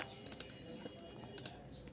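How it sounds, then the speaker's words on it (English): Typing on a computer keyboard, a few faint scattered key clicks in a quiet room, soft and close, with no speech. "I'm typing this."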